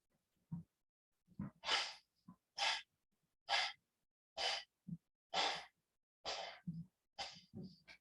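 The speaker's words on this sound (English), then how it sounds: "Exhale it all out." Deep breaths during a breathing exercise, with about eight airy exhales and inhales in an irregular rhythm. They are close, fairly quiet and alone, with short silences between each breath.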